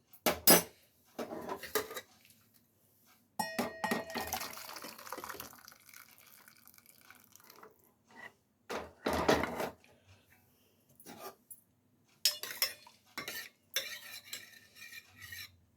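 Goat leg soup is moved into a vessel with metal utensils, giving intermittent clinks, scrapes and pot knocks in short clusters separated by quiet gaps, close and fairly soft.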